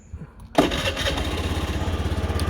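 An engine cranks briefly and catches, then settles into a steady, loud rhythmic idle close by.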